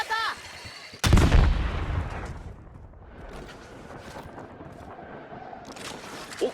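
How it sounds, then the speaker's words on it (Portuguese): A grenade explodes in the Warzone Mobile video game, a sudden loud blast that rolls into a long rumbling decay. Faint gunfire and game effects continue afterward, and a brief voice is heard at the start. "Granada!"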